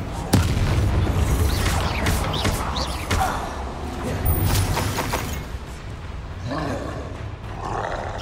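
A Confringo fire spell detonating in the Hogwarts Legacy video game, a loud booming blast with roaring rumble amid dense battle noise, followed by further crashing impacts.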